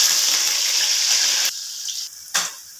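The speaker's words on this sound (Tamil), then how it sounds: "வெங்காயம் போட்டுக்கலாம்." Chopped onions hit hot oil with mustard seeds for drumstick sambar, crackling in a loud, bright sizzle that drops off suddenly, followed by a brief stir.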